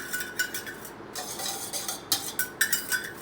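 Eggless whole wheat chocolate cake batter being stirred in a bowl, a spoon scraping and clinking against the sides in a quick irregular rhythm, close and fairly quiet, with no talking.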